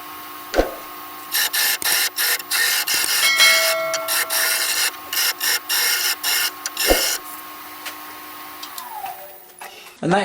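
Sandpaper rubbing a turned wooden hollow form spinning on a lathe, 150 grit dry, giving a close, steady raspy hiss broken into repeated short bursts as the paper is pressed on and lifted, over a low motor hum.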